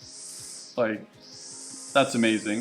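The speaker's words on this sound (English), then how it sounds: "They're apparently either leaf blowing or trimming the hedges" A leaf blower or hedge trimmer runs outdoors as a steady high-pitched whine that holds throughout, with people talking over it in the foreground.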